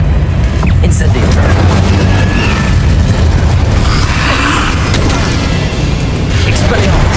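An Incendio fire spell erupting in Hogwarts Legacy, loud explosive booms and pops amid constant battle noise, with voices heard alongside.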